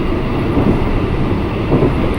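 Interior of an INKA CLI 225 KRL commuter train running on the Bogor Line out of Jakarta Kota, a steady loud rumble of wheels and motors with faint rhythmic rail clatter throughout.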